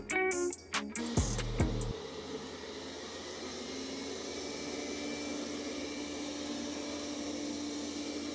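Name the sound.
Roborock S6 MaxV robot vacuum cleaner running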